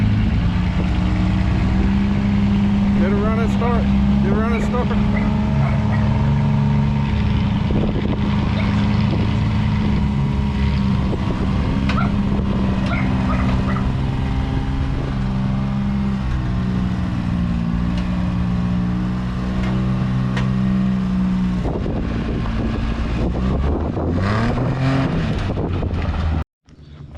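A vehicle's engine runs at a steady low drone while it backs a trailer up a hill into a carport, its pitch shifting near the end before the sound cuts off abruptly. No one speaks.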